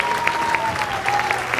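Church congregation clapping hands during a sermon, a sustained wash of many hands with a few sharper nearby claps, a steady tone and murmuring underneath.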